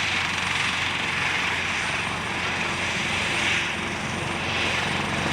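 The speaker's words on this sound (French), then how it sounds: "le commando rejoint la zone de récupération pour embarquer dans le Caracal." A Caracal military helicopter picks up a commando team during a military exercise. Its rotor and turbine roar loud and steady, with a dense, throbbing engine drone that carries through the whole stretch.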